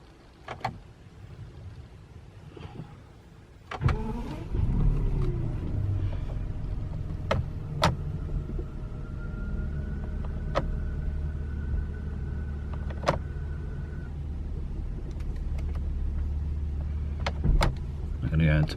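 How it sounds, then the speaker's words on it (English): A BMW car engine cranks and catches after a few quiet seconds, then settles into a steady low idle in a garage during a transmission service, with a few sharp clicks and knocks over the hum. "So what we want to do now then is fire the engine up"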